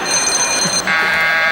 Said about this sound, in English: Simon, get the phone.